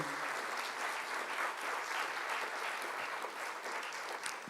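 Sustained audience applause for the academic orchestra of the University of Warmia and Mazury at a conference opening ceremony, a dense, steady wash of many hands clapping throughout without any talking.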